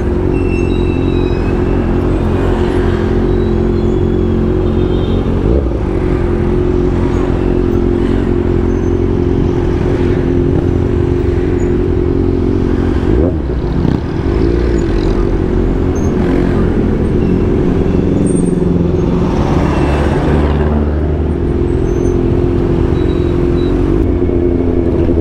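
A 2022 Kawasaki ZX6R motorcycle creeps through slow, congested traffic, its engine idling and jerking with uneven low rumbles and brief surges, close and continuous with no talk.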